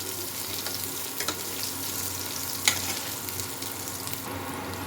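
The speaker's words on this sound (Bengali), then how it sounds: "এবার এটাকে আমি ভেজে নেব" Crushed garlic and chili sizzle in hot oil in a pan, a steady close frying hiss with a few sharp pops and stirring clinks.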